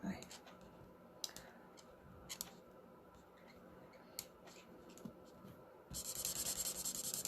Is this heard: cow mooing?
no